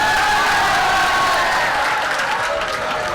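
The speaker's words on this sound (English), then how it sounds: "let's give a big round of applause to Senior Master." Audience applause for the Senior Master at a school annual day, a dense steady wash of clapping with a few crowd cheers mixed in, loud and continuous throughout.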